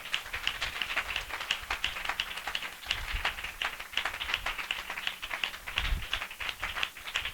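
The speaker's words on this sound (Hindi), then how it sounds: "हम जोरदार ताली से उनका स्वागत करें" A church assembly claps to welcome listeners, a quick, dense patter of many hands that stays steady and moderately faint throughout, with no voices over it.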